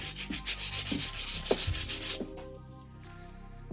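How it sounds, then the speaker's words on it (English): A wooden stick is rubbed with 220 grit sandpaper in quick, rhythmic back-and-forth strokes, close and crisp, about a dozen passes over two seconds. The strokes then stop, leaving a faint quiet tail. "you can do the same thing with the 220 grit sandpaper"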